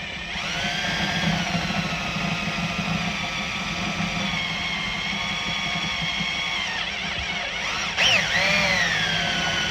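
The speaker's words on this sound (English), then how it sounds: "I'm going to have to drill these rivets out to use this back" A power drill whines steadily as it bores out rivets on a Recaro seat for a Ford Escort, a high sustained tone held close, with a brief pitch dip and restart near the end.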